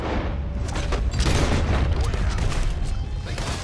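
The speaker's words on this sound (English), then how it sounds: "I'll have to shoot." Gunfire in Red Dead Redemption 2 rings out as a dense burst of loud, overlapping booming shots in close succession, a heavy continuous volley with echoing rumble filling the whole short stretch.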